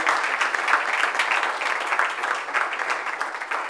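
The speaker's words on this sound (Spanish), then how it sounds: "Denle un aplauso a Cristo Jesús esta noche." A church congregation breaks into steady, dense applause for Christ during an evening service, a continuous wash of many hands clapping at close range with no talk over it.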